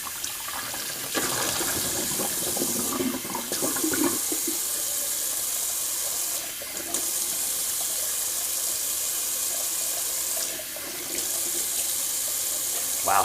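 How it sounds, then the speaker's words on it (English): Cold water runs steadily from a bathroom tap during a wet shave rinse, a constant close splashing hiss that shifts briefly as hands move under the stream. "just gonna do a little cold water rinse"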